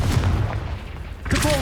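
A Confringo spell blast in the Hogwarts Legacy video game, a near, loud booming hit amid rumbling combat noise, followed by a second sharp burst and a brief voice-like sound.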